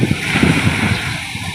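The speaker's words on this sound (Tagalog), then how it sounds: "Laki ng alon." Large ocean waves rolling and washing close to a small paddle-powered outrigger boat without an engine, off Negros, a steady loud rush of surf and water with wind buffeting the microphone throughout.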